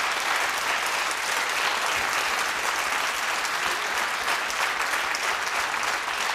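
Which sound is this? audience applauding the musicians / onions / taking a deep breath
audience applauding the musicians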